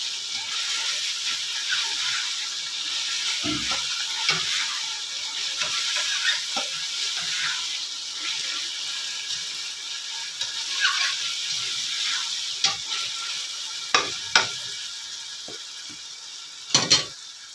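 Chow mein frying in a pan, a steady sizzling hiss that runs throughout, with occasional clinks and scrapes of stirring utensils against the pan and no talking.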